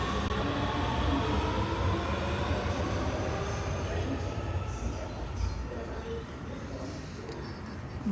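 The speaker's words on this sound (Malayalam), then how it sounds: "ഇനിയിപ്പോൾ നമുക്ക് മെട്രോ വരും, അതിന് കയറാം" A Dubai Metro train runs with a steady, loud rumble and rolling noise that fades slightly toward the end, with faint voices beneath.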